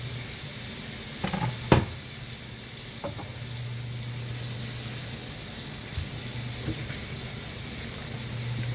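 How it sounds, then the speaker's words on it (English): Steady sizzling of Italian sausage frying in a pan for zuppa toscana, a continuous hiss with a few brief clatters of a utensil near the start. "I hear my Italian sausage sizzling"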